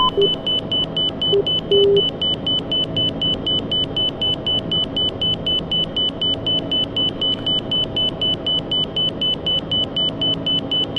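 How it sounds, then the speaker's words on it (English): Rapid, evenly spaced high-pitched inner marker beacon beeps repeat continuously over a steady engine drone in an aircraft cabin during an ILS approach. "that sound right there is letting you know that you're passing over the inner marker"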